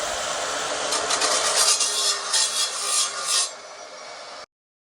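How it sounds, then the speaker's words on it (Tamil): A saw blade cutting slowly on a farm, left to sink under its own weight without being pressed, giving a loud, close rasping rub in a run of strokes before it stops abruptly. "நான் பொறுமையாக அது பிளேடு அழுத்தாமல் அதோட கிராவிட்டிலேயே அது பொறுமையாக போகட்டும்னு வெயிட் பண்ணி கட் பண்ணிட்டு இருந்தேன்"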